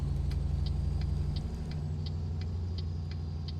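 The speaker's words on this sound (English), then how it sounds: "It's a good sounding truck though too." A heavy truck with large off-road tires idles and rumbles steadily in Euro Truck Simulator 2, loud and constant, with an evenly paced ticking, like a turn signal, running over the engine drone.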